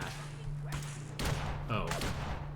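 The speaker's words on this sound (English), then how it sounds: "The heck are all you firing at?" Gunfire in the Fallout 4 video game, a modded Fallout Equestria session near the Cabot Sanitarium, sounding as a few bursts of shots over steady game ambience, fairly loud.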